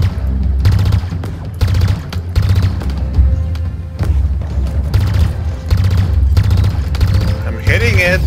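Turret gunfire in Halo Infinite, heavy rhythmic booming shots repeating roughly every second, loud and close, with game sounds and voices mixed underneath.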